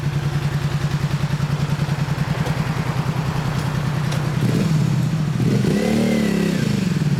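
1988 Honda VTZ250 motorcycle with a Daishin exhaust, a steady throbbing idle close by that rises into a brief rev near the end before settling, loud with no talk.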